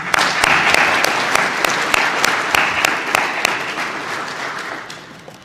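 Sustained audience applause fills a state police academy graduation ceremony hall, steady dense clapping with a few sharp near claps, gradually easing toward the end.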